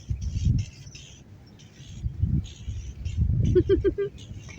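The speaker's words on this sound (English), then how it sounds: "I think that bird is trying to fight that squirrel." A bird calling outdoors on a windy day, apparently squabbling with a squirrel; a short series of rapid chirps rises near the end over gusty low wind rumble and some voice.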